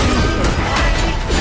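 Heavy combat hits in the video game Black Myth: Wukong, a loud, dense stretch of crashing impacts and thuds with no break, layered over the game's constant background noise.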